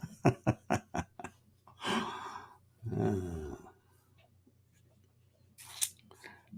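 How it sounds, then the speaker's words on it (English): Wet, rhythmic slurping and licking noises from a dog close by licking its paws, a quick run of smacking bursts followed by longer sloppy licks, then quiet. "Down here slurping, licking his paws and stuff."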